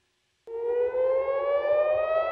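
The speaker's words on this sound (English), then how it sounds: "Sirens and explosions in the skies above Tel Aviv" Civil defense air raid siren over Tel Aviv, starting abruptly after a moment of silence and holding one steady, slowly rising wail, loud and clear.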